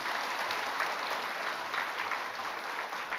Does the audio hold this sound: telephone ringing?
no